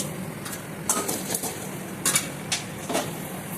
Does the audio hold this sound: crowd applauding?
no